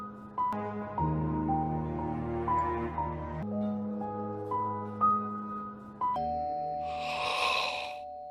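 A chiming doorbell plays a melodic sequence of tones, followed by a brief breathy noise at the end.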